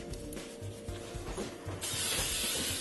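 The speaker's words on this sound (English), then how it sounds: "I spray adhesive on my paper pattern" A steady, close hiss of spray adhesive from an aerosol can onto a paper pattern starts partway through and continues to the end, following some soft rubbing and handling noises.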